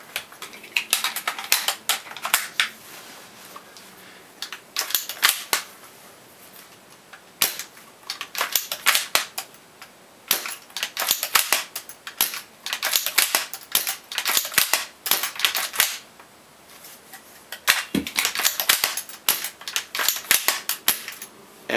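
Maruzen L96 airsoft sniper rifle firing and being cycled, a series of sharp clicks and clacks in irregular bursts, close and fairly quiet with no talking.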